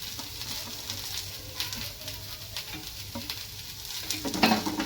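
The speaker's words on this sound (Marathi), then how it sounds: "तर आता सुकं खोबरं पण भाजून घेणार आहे दोन मिनटं" Dry grated coconut roasts with onions in a pan for a shevga bhaji, giving a soft continuous sizzle with steady stirring scrapes throughout, moderately quiet and close.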